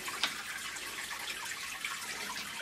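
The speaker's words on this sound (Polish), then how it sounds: "Właśnie jak spuszczam wodę" Water drains out of an aquarium during a water change, a soft continuous trickle and gurgle with occasional faint drips, quiet and steady, with no one speaking.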